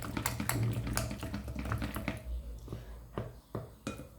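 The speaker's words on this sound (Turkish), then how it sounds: "Şimdi iyice çırpıyorum." Crepe batter with baking powder being whisked in a bowl, a rapid rhythmic tapping and sloshing that slows and thins out toward the end, close and fairly quiet, no talk.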